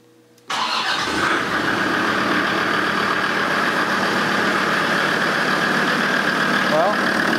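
A Land Rover Defender TD5 diesel engine starts after a brief quiet moment, then idles loudly and steadily close by with an even, rumbling clatter.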